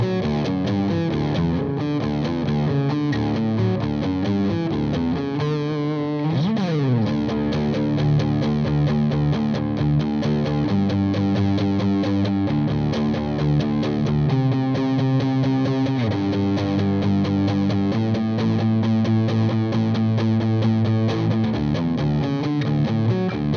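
An HSS Stratocaster-style electric guitar plays with heavy distortion, sustained chords and riffs ringing loud and dense with no gaps.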